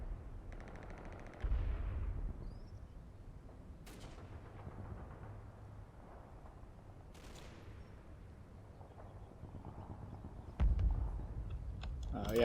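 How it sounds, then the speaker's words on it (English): Machine gun fire in the Normandy hedgerow battles of the Combat Mission video game: scattered short, sharp bursts crack out at a distance over a quiet low rumble. "There's some MG fire."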